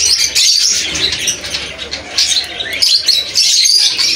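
Parrots and other birds in a bird shop chirp and tweet in quick, overlapping bursts, with shrill calls and brief flurries filling a busy, close soundscape.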